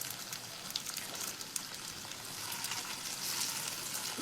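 Puttu flour snack dough, the fried pathiri, bubbling and sizzling in hot oil with a steady crackling hiss that swells slightly toward the end, close and without talk.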